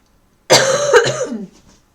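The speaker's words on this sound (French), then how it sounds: "j'ai de la poussière dans la gorge, donc je vais tousser" A single harsh cough from dust in the throat, close and loud, lasting about a second before trailing off into silence.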